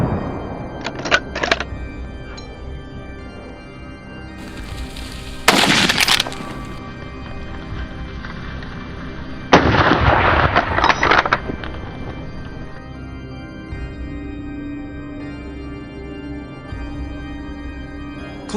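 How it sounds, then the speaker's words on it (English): Gunfire aimed at wild boars raiding a corn field, heard as a few sharp reports and bursts spread over a quiet outdoor backdrop, with a faint low hum between shots. "So, the moment they appeared again, I opened fire."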